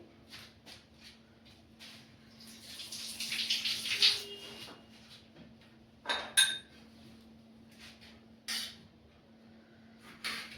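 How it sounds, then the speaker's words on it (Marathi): Tomatoes being washed under running water, a soft intermittent splash and trickle in bursts with a few light clinks of a bowl or utensil, close and fairly quiet, no talking. "तर पहिल्यांदा टमाटे धुवून घेते"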